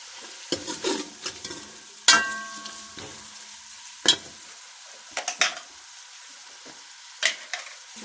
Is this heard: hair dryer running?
no